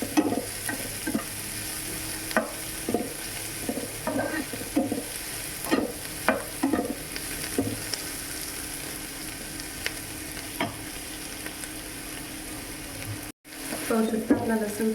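Garlic sizzles steadily in a hot pan for a restaurant-style paneer chilli, with repeated scraping stirs in an irregular rhythm, close and moderately loud, alone without talk.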